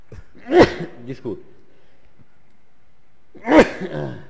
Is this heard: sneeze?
yes